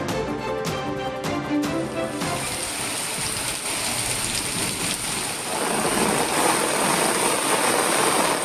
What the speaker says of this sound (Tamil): மதுரை மாநகரில் பரவலாக கனமழை